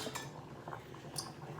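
A metal ladle scooping beef gravy juice into a bowl, soft clinks and scrapes of utensil against cookware with faint liquid splashes, quiet and close, no talking.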